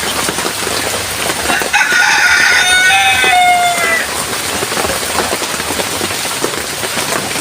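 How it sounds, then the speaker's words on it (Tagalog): Rooster crowing once during steady rain, the drawn-out cock-a-doodle-doo rising above the constant patter of rain on surfaces, with a few clucks nearby. "Yun talaga yung manok pag tagulan."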